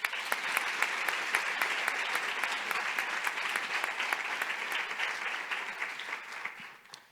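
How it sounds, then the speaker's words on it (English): An audience at a school conference gives a round of applause, a dense, even clapping that holds steady for several seconds and then tapers off at the end. "So a round of applause again."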